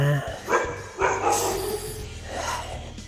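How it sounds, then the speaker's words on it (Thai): A dog in a side street barks a few times at a passing rider, with sharp, moderately distant barks mixed in with someone talking. "ถ้าน้องหมาเห็นผมแล้วมันจะเห่านะครับ"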